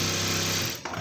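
A sewing machine stitching chudidar fabric, a steady close whirring hum that runs without a break and stops abruptly at the end.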